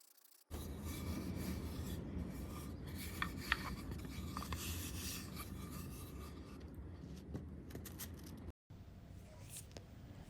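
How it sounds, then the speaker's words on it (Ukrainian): Steady, continuous rasping of sandpaper rubbed back and forth over wood, close up, with a brief pause near the end. "Готуємо основу, гарно шліфуємо до гладенького стану."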